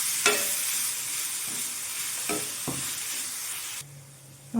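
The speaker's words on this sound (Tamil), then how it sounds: "இப்போ அவல் சேர்த்ததுக்கப்புறம் நல்லா கிண்டி விடுங்க" Soaked flattened rice (poha) for upma being stirred in a hot pan, a continuous close sizzle broken by a few sharp spoon scrapes and taps, with no voices.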